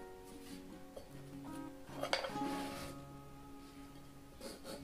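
A nested camping cookware set of four pots being handled and opened, producing soft metallic clinks and clanks nearby at low volume, without speech.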